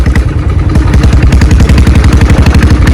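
Royal Enfield Bullet 500 motorcycle engine running just after starting, a loud, close single-cylinder thump in a fast, even, continuous rhythm.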